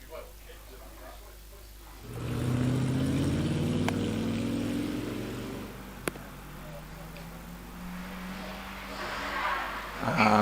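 Morgan Plus 4 2-litre sports car racing through the S-bends of the Prescott hillclimb: a rising engine note that surges past and fades, with commentary heard over the top.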